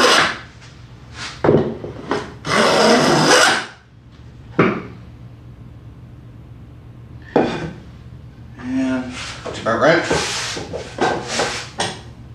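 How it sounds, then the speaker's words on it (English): Hand chamfering the edge of a wooden spice-rack piece on a workbench, heard as several short rasping, rubbing strokes in bursts with pauses between, fairly close and moderately loud. "chamfer off this edge a little bit."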